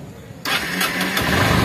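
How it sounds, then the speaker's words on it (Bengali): A Honda XBlade motorcycle engine starts abruptly after a quiet moment, catching at once and settling into a loud, close, rough idle. "এখন গাড়িটি স্টার্ট করে দেখাবো,"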